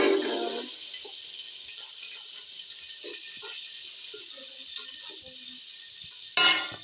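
Onions for a tomato stew go into hot oil with a sharp burst of sizzling, which settles into a softer, steady hiss with small pops and flares up loudly again near the end.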